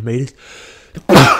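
One sharp, loud sneeze bursts out right after a man finishes a spoken word during a relaxed indoor conversation.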